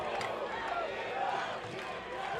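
A crowd roars and cheers during a 5 vs. 5 armoured combat final at Battle of the Nations, a dense, loud wash of many voices that holds steady throughout.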